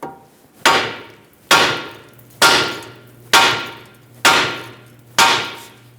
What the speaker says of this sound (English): let's start off with a hammer. Just tap right here a few times.